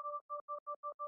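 A simple synthesizer sine-wave tone from an FM patch with the modulation switched off: a pure two-pitch tone pulsing in six short, even bursts, faint and alone.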